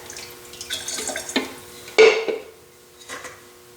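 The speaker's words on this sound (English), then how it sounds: "That is a good consistency to pour inside your vessel." Ceramic glaze being poured inside a vessel: a wet, sloshing pour with light clinks of a container against ceramic, one sudden louder splash partway through, then a softer trailing dribble.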